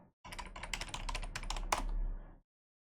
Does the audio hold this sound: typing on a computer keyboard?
yes